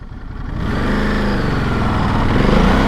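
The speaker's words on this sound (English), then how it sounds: "This is just what it's like when you take off on this beast using the" A Ducati Desert X Rally motorcycle accelerates hard from a standstill, its engine rising in a loud, close, continuous roar that builds over a few seconds.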